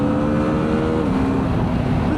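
BMW F450 GS adventure motorcycle engine revving steadily at high rpm while riding, a loud continuous buzzing drone with slowly shifting pitch, close to the rider.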